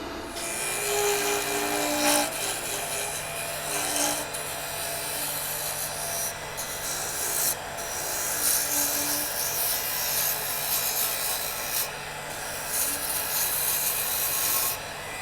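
Skew chisel cutting mesquite wood spinning on a lathe, a steady close scraping hiss with faint shifts in pressure under a constant motor hum, continuing without talk.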